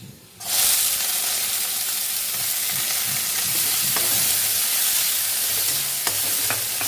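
Onion tipped into hot oil with browned chopped garlic, bursting into a loud sizzle after a brief quiet start and holding a strong steady hiss with occasional stirring scrapes.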